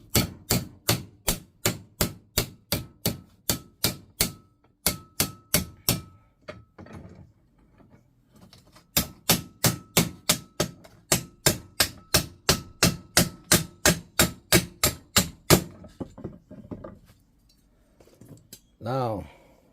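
A hammer striking a sheet metal patch panel clamped in a vise for classic car restoration, with rapid, sharp, ringing metallic blows in two long rhythmic bursts separated by a brief pause, loud and close.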